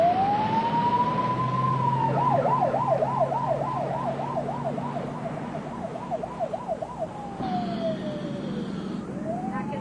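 Ambulance siren wailing continuously from a moving vehicle on a New York emergency run, shifting from a long rising-falling wail into a rapid yelp and back, loud and close over road rumble, with no talking.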